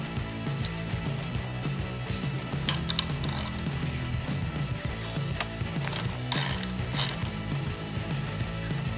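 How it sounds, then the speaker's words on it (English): Continuous ratchet clicking from a wrench loosening brake line banjo bolts on a Harley-Davidson caliper and master cylinder, steady rapid pawl ticks at close range with faint metallic creaks, no talking. "can begin removing the banjo bolts from the caliper and the master cylinder"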